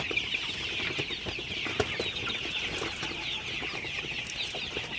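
A crowd of Sonali chickens on a poultry farm, a dense continuous chorus of clucking and chirping with occasional wing flaps, close and steady throughout.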